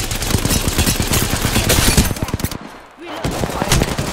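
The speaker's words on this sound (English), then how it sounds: "I am taking fire, friends." Rapid automatic gunfire from a video game shootout rattles continuously and loudly, with a short lull before bursts resume, while a player speaks briefly over it.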